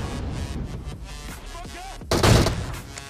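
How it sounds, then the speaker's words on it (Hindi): An AWM sniper rifle fires a headshot in a PUBG battle royale match, a single loud heavy blast cutting through busy game ambience with faint background chatter. "यहाँ पे AWM का एक पट्टा से हेडशॉट और बंदे का काम हो जाता है"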